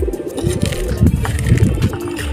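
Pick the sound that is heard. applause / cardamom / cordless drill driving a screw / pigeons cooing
pigeons cooing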